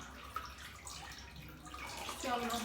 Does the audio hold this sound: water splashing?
yes